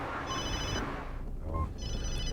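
A mobile phone rings inside a car stopped at a police traffic stop, with two bursts of electronic ringing separated by a short pause over steady engine and road hum.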